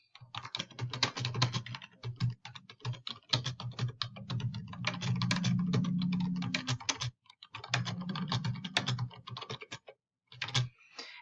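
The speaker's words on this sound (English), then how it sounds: "Type in your question." Fingers type on a computer keyboard in quick bursts of close, crisp key clicks, broken by short pauses, with no talking.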